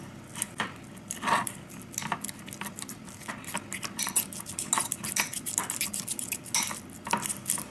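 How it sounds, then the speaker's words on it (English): A fork mashes avocado in a bowl for guacamole, making close, irregular clinks and soft squishy scrapes that repeat steadily throughout. "Now you want to take a fork and just begin to mash it up so that it becomes really like mushy and like a paste."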